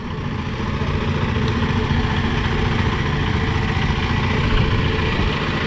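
A fishing boat engine runs steadily at night on a calm sea during squid fishing in southern Vietnam, a loud continuous low rumble with no pauses or talk.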